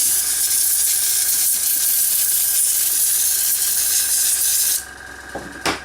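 Compressed air sprays steadily into the cooling grill of an old laptop, a loud continuous hiss lasting nearly five seconds before cutting off abruptly into near quiet with a couple of small clicks.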